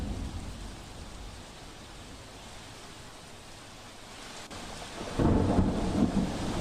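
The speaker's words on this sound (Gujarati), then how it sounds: "હાલમાં તો વરસાદ ભાવનગરમાં પડી રહ્યો છે" Steady rain pours down during a thunderstorm in Bhavnagar, Gujarat, a dense continuous hiss with low thunder rumbling throughout, swelling louder near the end.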